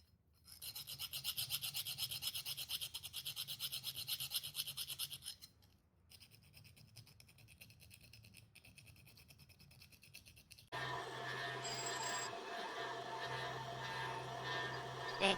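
Metal hand file rasping back and forth to chamfer and deburr the edge of a handmade metal scraper, steady close scraping strokes in three long stretches with short pauses between, no voices.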